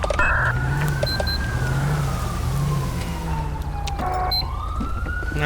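A police car siren in GTA V with the LSPDFR mod wails loudly and continuously over a running car engine, its pitch sliding slowly up and down, with short electronic chirps near the start and end.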